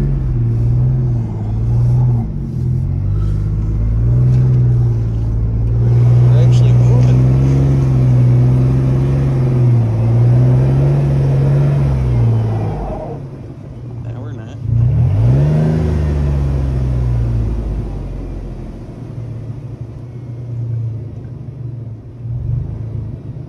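An off-road vehicle in two-wheel drive, engine droning and revving loudly as it struggles, with a dip and a fresh surge of throttle midway, while people talk over the rumble.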